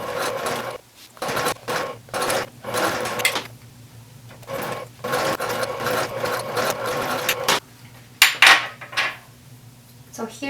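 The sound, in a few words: sewing machine top stitching 1/4 inch seam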